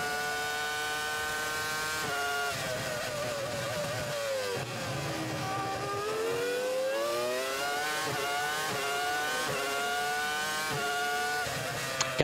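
Formula One car on a qualifying lap at the 2004 Bahrain Grand Prix, its high-pitched engine screaming steadily with rising and falling revs through gear changes, loud and continuous throughout.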